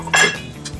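Tofu dropped into a pan already holding broccoli gives one short metallic clatter of pan and food, close and fairly loud, then quick fading faint rattles, with no talking.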